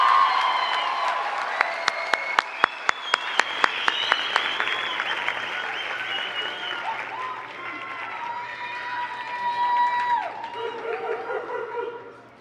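Audience applause at a nurse pinning ceremony for nursing graduates, a few sharp separate claps opening into a brief round of clapping that fades into crowd chatter and scattered voices.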